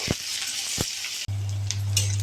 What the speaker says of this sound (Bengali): এবার পেঁয়াজ কাঁচা লঙ্কা ভেজে নেব।